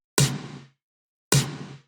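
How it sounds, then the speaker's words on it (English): Two crisp snare hits from a cashmere snare sample, bright and snappy with a short ringing body, spaced about a second apart and heard alone. "as well as this cashmere snare."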